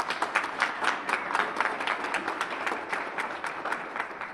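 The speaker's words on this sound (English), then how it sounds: "You guys deserve a round of applause." An audience at an airport event gives a short burst of applause, a rapid, fairly close patter of many hands clapping.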